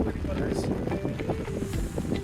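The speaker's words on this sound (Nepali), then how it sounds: "हावा पनि हाल्छ" Wind buffets the microphone in gusty bursts over water on a hillside hiking trail at Kai Kung Leng after rain, with scattered knocks and faint background voices.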